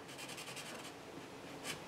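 Marker nibs scratching across a coloring canvas, a faint, close rasping rub in short repeated strokes.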